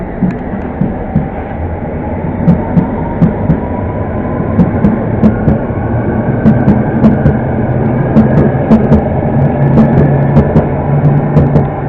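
Metropolitan line train pulling out of Pinner station bound for Amersham, a steady rumbling roar of rail noise with rhythmic clanks over the track joints, sustained and fairly loud throughout.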